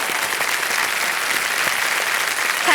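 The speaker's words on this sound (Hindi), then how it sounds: "एक बार फिर तालियां बज जाएं क्योंकि चेक आ रहा है इनके नाम।" A studio audience on the quiz show Kaun Banega Crorepati breaks into steady, full applause, dense clapping holding evenly throughout at close range.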